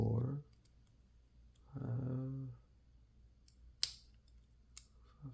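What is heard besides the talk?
lock pins clicking while picking a lock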